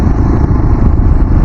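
Yezdi Adventure motorcycle on a ride near B.R. Hills, recorded from a helmet-mounted camera: a loud, steady engine rumble mixed with wind buffeting, with no pauses.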